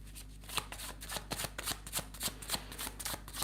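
Steampunk Tarot cards shuffled by hand in a quick run of crisp riffling flutters, close and steady over a low background hum.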